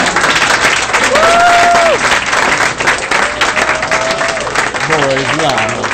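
Loud sustained applause and cheering from a live audience after a poem, a dense roar of clapping with voices calling out over it throughout.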